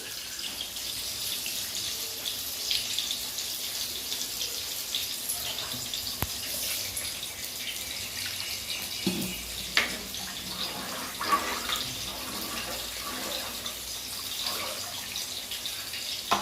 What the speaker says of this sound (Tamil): குழம்பு நல்லா கொதிச்சு வந்துருக்கு